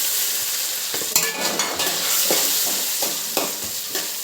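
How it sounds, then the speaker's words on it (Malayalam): Coconut pieces fry in hot oil with steady crackling and sizzling throughout, with scattered pops and a few scrapes of a spoon stirring the pan. "നമുക്ക് ഈ തേങ്ങാക്കൊത്തങ്ങ് വറുക്കണം"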